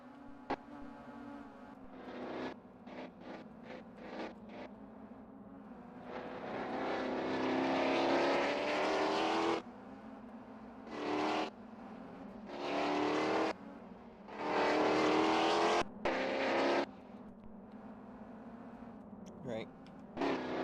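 Race car engines roar through a video game race at a lakeside castle track, with loud sustained revving and several shorter bursts as cars pass, heard under ongoing talk.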